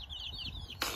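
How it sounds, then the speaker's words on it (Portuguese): A group of about fifteen young chicks peep in a rapid series of high, thin, falling chirps, close and fairly quiet. "Tá aqui nossas criações. São 15 pintinhos."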